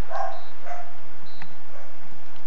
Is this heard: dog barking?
yes